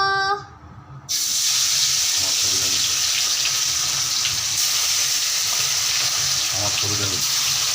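Chicken pieces go into hot oil and set off a sudden loud, continuous sizzle that holds steady after a brief tonal sound and a short lull, with faint voices murmuring underneath.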